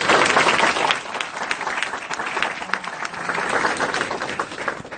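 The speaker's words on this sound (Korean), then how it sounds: "격려의 박수 부탁드립니다" Audience applause at a motivational business talk, a dense, steady wash of many hands clapping that stays loud throughout and eases slightly midway, with no talk over it.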